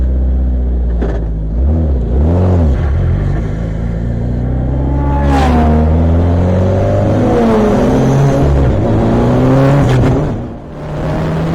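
A race car on a lap of the Paul Ricard circuit at Le Castellet, engine loud and close with rising and falling revs through gear changes and a brief dip near the end.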